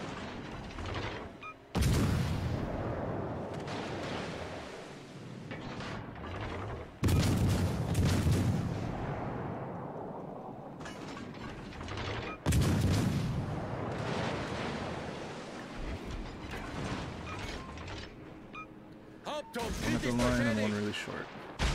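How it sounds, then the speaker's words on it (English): Naval gunfire from the ship Flanders in World of Warships Legends, a series of loud booming salvos with heavy low rumble and sharp onsets around 2, 7 and 12.5 seconds, followed by sustained rolling blasts under a steady wash of battle noise. "Flanders shooting at us"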